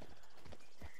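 Horse hooves clip-clopping in the Red Dead Redemption 2 video game, a few quiet uneven steps at close range, no talk over them.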